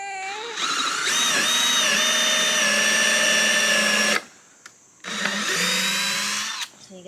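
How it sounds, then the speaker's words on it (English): A power drill pre-drilling holes in wood whines steadily for about four seconds, pauses, then runs again in a second long burst, close and loud with no talking. "I pre-drill these holes"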